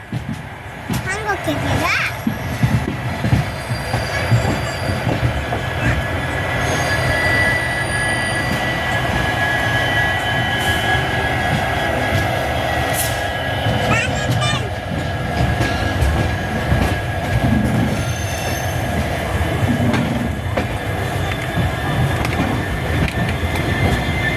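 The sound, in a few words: moving train on rails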